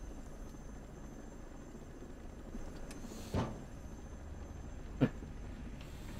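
Helicopter in the Ghost Recon Breakpoint video game, a low steady rotor drone in the background, broken by two short sharp thuds, one near the middle and one near the end.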